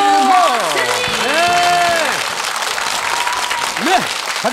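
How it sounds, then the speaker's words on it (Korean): Studio audience on a Korean family game show applauds both competing teams, steady dense clapping throughout with whooping host-style voices and musical tones sliding over the top. "양팀 박수!"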